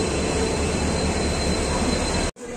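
Humsafar Express train at Varanasi station, bound for New Delhi, a loud, steady broadband rumble and roar of the train alongside the platform that cuts off abruptly near the end.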